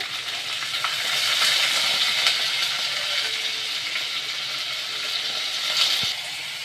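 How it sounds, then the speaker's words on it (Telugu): Onion, ginger and garlic fry in oil in a pan, giving a steady, close, even sizzle that holds throughout with only small swells. "నూనె ఉల్లిగడ్డ అల్లం ఎల్లిగడ్డ కానీ వేసినాం కదా దీంట్లో ఇదంతా మగ్గిద్ది"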